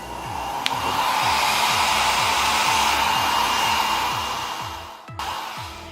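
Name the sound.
budget hair dryer running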